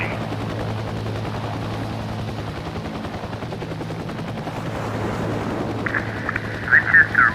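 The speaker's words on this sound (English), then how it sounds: "So I have 2 different versions of the Huey and a scout helicopter." A Huey helicopter flies in a video game, its steady low rotor thump droning throughout, joined near the end by bursts of gunfire and beeping alert tones.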